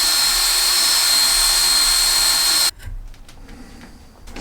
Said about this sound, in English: Where you just move the drill bit back and forth.